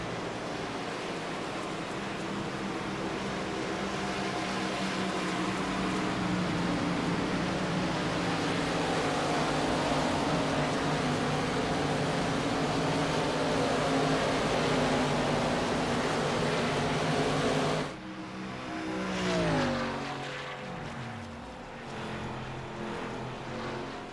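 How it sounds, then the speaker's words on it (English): IROC race cars at Kentucky roar steadily and loudly with broad engine noise, then drop off abruptly near the end as the drivers dump the clutch and coast, leaving a quieter falling whine. "these drivers dumping the clutch and coasting these race cars again, saving fuel at every opportunity"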